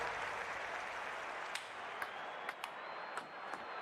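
A virtual sports crowd applauds in the London 2012 Olympic video game, a steady wash of clapping with a few sharp ticks and pings over it, fairly faint and without talk.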